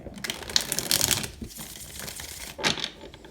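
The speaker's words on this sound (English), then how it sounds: "One more shuffle, please, and thank you." Tarot cards riffled and shuffled by hand, two quick crisp bursts of papery flutter and snapping close to the mic with a softer rustle between them.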